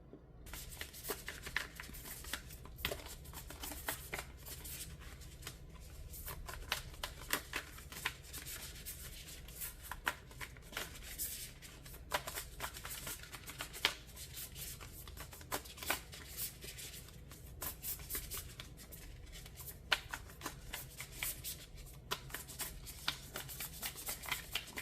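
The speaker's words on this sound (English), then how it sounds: "I'm going to go pull one oracle card" Oracle of the Hidden Worlds card deck shuffled by hand in a steady stream of soft riffling and rubbing, with sharper card snaps scattered throughout, close and fairly quiet with no talk.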